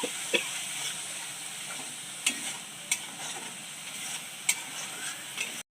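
Echor (young jackfruit) cutlet mixture is stirred as it fries in oil in a pan, a soft steady sizzle punctuated by several sharp clicks of the spatula against the pan, quiet and close.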